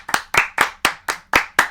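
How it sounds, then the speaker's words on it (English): Single pair of hands claps seven times in a steady, evenly spaced rhythm, close and crisp, cheering the Angels baseball team, with no talk over it. "Let's give a round of applause to the Angels"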